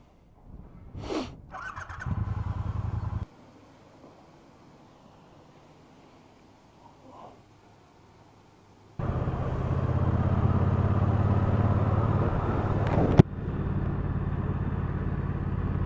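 A 2019 Triumph Speedmaster motorcycle on a test ride: a short burst of engine, a quiet stretch with faint noises, then a long loud engine drone with wind rush and a sharp click near the end.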